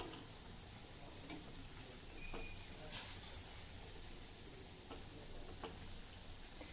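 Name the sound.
red pumpkin fritters (vada) frying in oil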